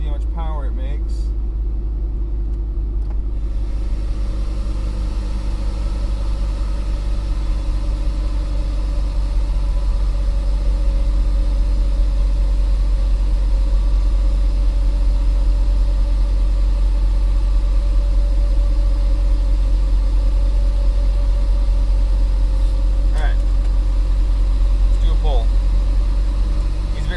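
A Subaru STI engine with a KV8 turbo runs on a dyno, giving a steady, loud, low rumble at a constant pace the whole way through, with faint voices nearby.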